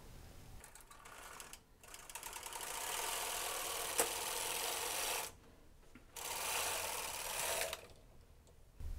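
A Brother 260 knitting machine carriage sweeps across a row of a shawl collar in long, loud mechanical rushes with ratcheting texture, pausing briefly between passes, close up and without speech.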